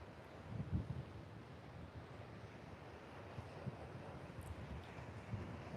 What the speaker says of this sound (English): We've got some big winds too, so I'm trying to hide from the wind a little bit.